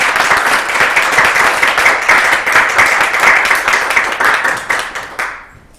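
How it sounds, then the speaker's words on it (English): Audience applause at a quantum music conference, a dense patter of many hands clapping steadily and fairly loud for about five seconds before fading quickly to quiet. "I don't know if you can hear the applause."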